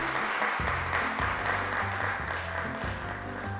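An audience at a religious quiz show applauds the teams, a dense steady clatter of clapping at moderate level over a low musical hum.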